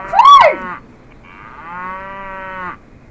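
A cow moos twice in the Roblox game Greenville, two long harmonic calls, the first louder and wavering and the second steadier, with a short quiet gap between them and no talking.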